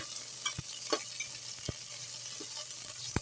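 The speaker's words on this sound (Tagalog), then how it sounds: "Ayan, magigisa na tayo ha. Ang natin gisahin ay kamatis" Gentle sizzling of tomatoes sautéing in hot oil runs throughout, broken by a few soft scraping stirs and light taps of a utensil against the pan.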